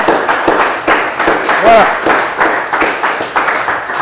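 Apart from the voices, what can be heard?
audience applause at prize giving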